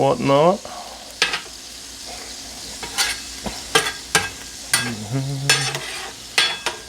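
Burger patties and onions sizzle in butter on a flat griddle, a close steady frying hiss broken by sharp spatula scrapes and taps, with a couple of brief vocal sounds.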